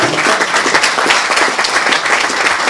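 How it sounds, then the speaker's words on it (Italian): An audience at a lunch gathering with Ferrari engineer Mauro Forghieri applauds in tribute. Dense, steady clapping from many hands fills the whole stretch at close range, with no voices over it. "anzi farei un applauso perché è stato un grande"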